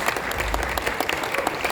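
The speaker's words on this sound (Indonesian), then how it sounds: "Tepuk tangan dulu deh buat Mas Anies Baswedan." A lively audience claps for Anies Baswedan at a discussion event, a short burst of dense, even applause at moderate distance.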